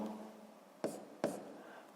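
Chalk or marker writing an equation on a board during a sixth-grade math lesson, heard as two sharp taps about half a second apart over a faint background hum.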